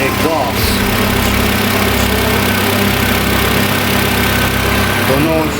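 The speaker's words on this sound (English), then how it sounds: "it actually sounds better, but I think there's a little leak in the exhaust" A Honda D17 engine idles with a small exhaust leak, giving a steady low drone with faint ticking, loud and close, while someone talks over it.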